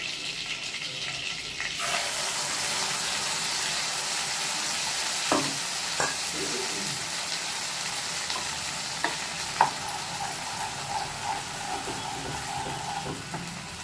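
Ground masala paste for paneer butter masala sautéing in hot butter and oil: a steady, close sizzle that starts after a quiet moment, with occasional scrapes and taps from a stirring spoon.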